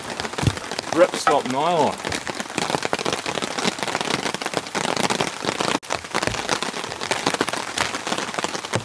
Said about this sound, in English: The rain's coming down pretty thick and heavy at the moment.